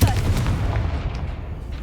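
A Confringo spell explosion in a video game, bursting as a loud, dense boom that rumbles on with a sustained low roar for the short stretch.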